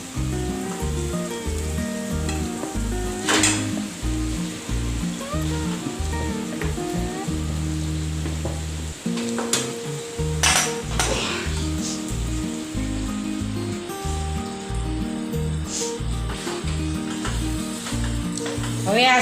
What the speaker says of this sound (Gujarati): બધું મસાલા સાથે બટેકા સરસ મિક્સ કરી લઈશું